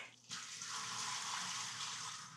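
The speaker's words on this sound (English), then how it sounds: "Yeah, so you rinse these after soaking them. Rinse them like 2 or 3 times." Running tap water gushes steadily over soaked peaches being rinsed, starting abruptly after a brief quiet moment and continuing as an even, close hiss and splash.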